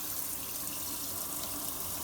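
Water spraying from a shower head onto salty soil in a heavy ceramic pot, a steady broad hissing rush of falling water, close and continuous with no talk.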